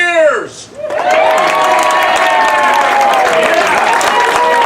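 A voice shouts briefly, then a large crowd erupts into loud, sustained cheering and applause with whoops mixed in.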